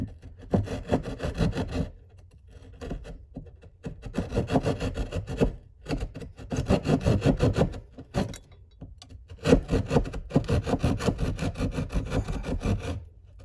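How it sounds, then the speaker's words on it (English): A handsaw cuts through a bathroom ceiling opening for a larger vent fan, with steady rhythmic back-and-forth rasping strokes in bursts and short pauses between, close and fairly loud. "The rest of it, I am just going to use my handsaw to finish it, just so I can get to the edge."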